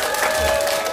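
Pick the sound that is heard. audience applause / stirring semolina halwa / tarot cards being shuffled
audience applause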